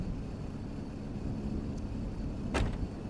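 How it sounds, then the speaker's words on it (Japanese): A car door shuts on a Mazda RX-8 (SE3P) in The Crew 2 racing game, one short solid thump over a steady low engine idle hum, with a quieter click just before. "とりあえずこんな感じで一旦窓というかドアをちょっと閉めてみましょう。"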